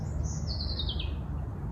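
A single bird gives a short, high descending chirping trill over a steady low background rumble, clear and fairly close, with no talking.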